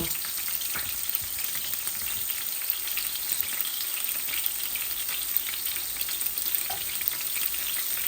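Chicken mince kebab fries gently in a little oil over low heat, giving a steady close sizzle with faint crackles and occasional stirring scrapes, and no voices.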